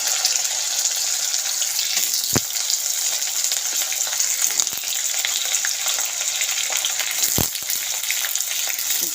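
Sliced potatoes frying in a pan with garlic and cumin give a continuous bright sizzle with soft crackling and a couple of sharp clicks as they are stirred, steady and close throughout.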